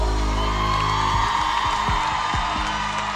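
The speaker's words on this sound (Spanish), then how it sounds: "Los aplausos." A concert crowd at a show applauds and cheers in a steady, loud roar of claps and whoops, with a held musical tone running underneath.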